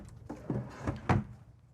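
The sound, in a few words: drawer in a motorhome cabinet opened or closed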